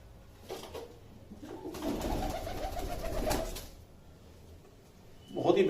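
Malwai pigeons of the umbrella-crest type cooing in a low, murmuring burst, with a brief sharper call near the end and a voice talking over them.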